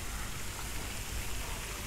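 Rain falling outdoors in a small Thai town near a lakeside café, a soft, even hiss of drops that stays constant and fairly quiet throughout.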